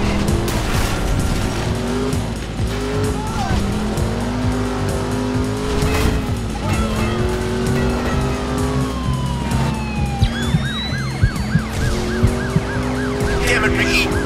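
Ambulance sirens wail and sweep in Driver: San Francisco over loud car engines and traffic, rising and falling tones that swell closer, with the din of racing cars throughout.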